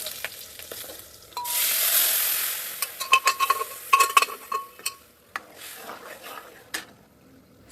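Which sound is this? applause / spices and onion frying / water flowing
spices and onion frying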